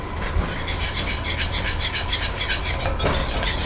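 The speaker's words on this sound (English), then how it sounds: "And just keep stirring it." Flour being stirred into hot melted butter for a roux in a pan, a steady scraping and rubbing with faint utensil clinks, close and continuous.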